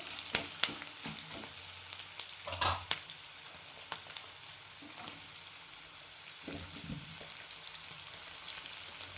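Onion, green chilli, chana dal and urad dal fry in a pan with a lively crackling sizzle. A spoon stirs them in irregular scraping strokes with occasional clatters against the pan.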